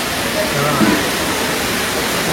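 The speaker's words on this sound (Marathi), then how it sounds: "पावसात पाणी पडताय ना इकडं" Steady broadband rush of rainwater pouring and splashing nearby, continuous with no pauses and a faint voice briefly underneath.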